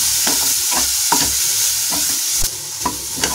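Homemade tamarind chutney being stirred in a pan with the gas turned off: a close, continuous scraping and sloshing with light sizzle and several sharper spoon clicks against the pan, and no talking.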